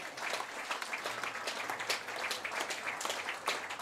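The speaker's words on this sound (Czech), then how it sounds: "zápas končí a diváci potleskem odměňují" Spectators applauding at the end of a Czech women's league football match, 1. FC Slovácko against SK Slavia Praha: steady, moderately loud clapping from a stadium crowd, with no voices over it.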